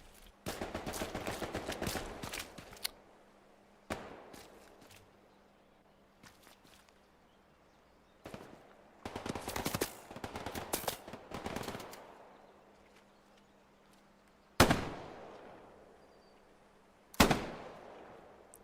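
Video game gunfire in a console shooter match, with dense automatic bursts early on, scattered single shots and footsteps, then two sharp, loud isolated blasts near the end.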